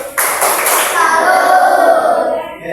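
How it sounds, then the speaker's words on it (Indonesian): A school class claps hands in applause, a dense burst of many children clapping together that swells and then fades over a couple of seconds. "Semuanya tepuk salut."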